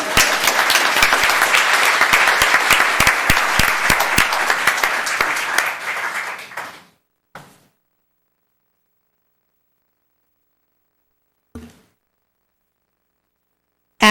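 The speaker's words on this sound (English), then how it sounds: "Let's give her another applause." A room full of people at a town council meeting gives sustained, even applause for a returning speaker, tapering off and stopping, with a couple of faint knocks in the quiet afterward.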